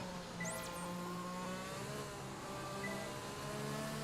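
A high, whining Formula 1 race-car engine in a video game drones steadily, with pitch sweeps as it revs and shifts, loud and continuous with no talk.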